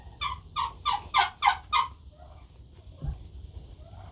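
Chickens, including black diamond hens, give six loud, evenly spaced clucks near the microphone, then a quieter, scattered stretch with a soft thump.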